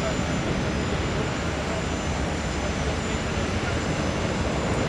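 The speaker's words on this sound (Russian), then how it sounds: "Еще одна новинка сухого — Суперджет 100 — тоже поднялся в небо." A Sukhoi Superjet 100 regional airliner taking off, its engines producing a loud, steady broadband roar that holds constant throughout with no other sounds standing out.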